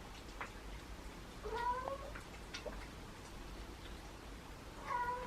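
A trapped feral cat lets out two drawn-out, wavering meows or howls, clear and fairly close, over a low steady background hum with no talk.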